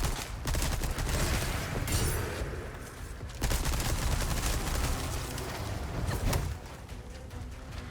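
Rapid gunfire rattles in Resident Evil 4 Remake during the Separate Ways DLC playing as Ada Wong, dense bursts of shots with brief pauses between them.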